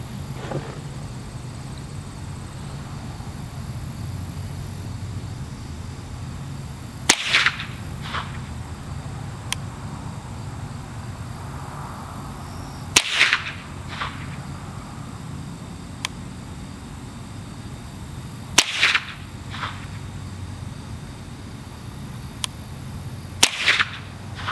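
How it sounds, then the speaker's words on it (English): Suppressed Ruger 10/22 with a Yankee Hill Machine integral suppressor barrel firing CCI Mini-Mag supersonic .22 rounds: four sharp cracks spaced roughly five seconds apart, each with a short echo, over a steady low background hum. "we've got some CCI mini mags we're going to put through here. These are obviously Supersonic"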